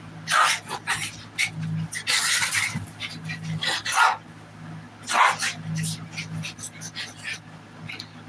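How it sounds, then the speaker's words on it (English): A dog barks and yips loudly in several bursts near the microphone, with a cat also making noise indoors and voices heard between the barks. "The cat and the dog are being very loud."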